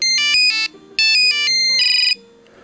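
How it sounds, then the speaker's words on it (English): A Nokia 5185i cellphone plays a bright electronic ringtone close up, a loud repeating pattern of beeping tones in short phrases with a brief trill near the end, then a quiet tail. "This is a pretty cool sounding ringtone though, if you ask me."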